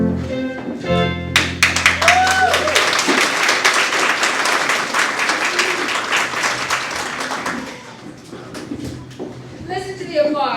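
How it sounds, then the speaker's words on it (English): Sustained audience applause fills a theatre after a song at a spring school musical of "Give My Regards to Broadway," loud and dense for about eight seconds, then thinning as voices and music start to come through. "Listen to the applause."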